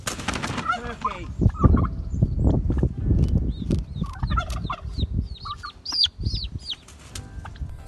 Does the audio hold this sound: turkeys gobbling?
yes